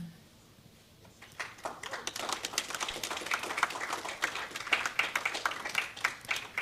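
An audience at a data conference claps, starting sparse and building into steady applause that continues to the end, moderately loud in a hall.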